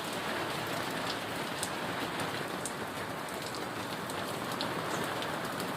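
Steady rain falls throughout, a dense even hiss with scattered drop ticks, fairly close and continuous with no voices.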